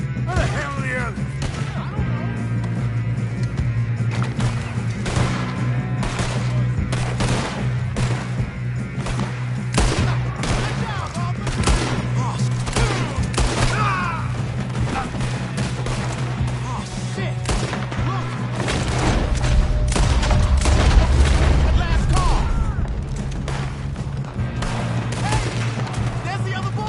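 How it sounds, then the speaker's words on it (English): Shootout gunfire in Red Dead Redemption 2: rapid, repeated cracks of rifle and pistol shots over a low steady hum, building into a heavier, booming volley near the end, with voices speaking in between. "Good shooting, kid."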